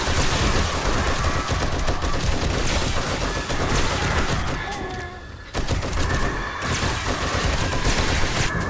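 Automated turrets fire continuously at a zombie horde in 7 Days to Die, producing a loud, rapid stream of machine-gun-like shots that barely pauses, briefly dipping before resuming at full intensity.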